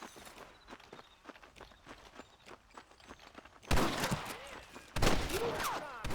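Gunfire in the video game Red Dead Redemption: two loud, sudden blasts close together after a stretch of quieter footstep-like tapping and movement.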